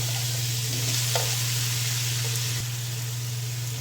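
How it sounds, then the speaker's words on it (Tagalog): Tomatoes and onions sauté in a pan with a steady close hiss of frying, a constant low hum running underneath and a couple of faint utensil taps. "This time, idagdag naman na gisa yung kamatis at saka sibuyas."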